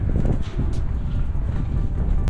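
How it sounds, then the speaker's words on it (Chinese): Strong wind roars across an open spot at Checheng in Shuili, Nantou, Taiwan, a steady low rumble buffeting the microphone with gusty surges throughout and no talking. "风很大哎，隆隆隆隆的"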